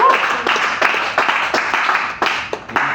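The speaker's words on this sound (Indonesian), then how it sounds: "Tepuk tangan buat Haleluya." A church congregation clapping together in a steady, fast rhythm, loud and close, filling the room with overlapping hand claps.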